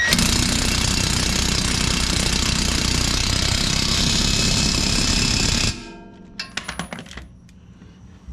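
Impact wrench hammering loudly and continuously while tightening a bolt on a 2021 Ford Bronco 2 inch lift kit, then stopping abruptly, followed by a few short metallic clicks and rattles up close.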